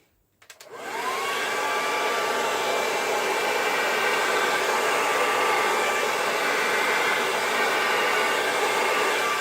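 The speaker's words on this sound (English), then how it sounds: "I'm going to put my hair dryer on" A hair dryer switches on after a brief click and then blows in a steady, loud whooshing roar close by over an acrylic paint pour, with no talking.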